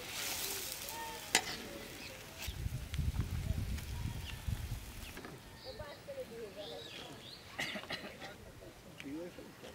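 Silver carp drops into hot sizzling masala in a village kitchen, with a burst of frying hiss and a few clatters of utensils; a voice speaks briefly nearby.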